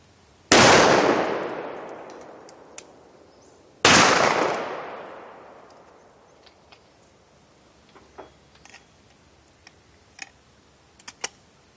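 Two loud, close blasts from an XT-15 28 gauge short-barrel side-by-side shotgun firing #4 buckshot ring out a few seconds apart, each decaying quickly, followed by scattered small clicks and handling sounds.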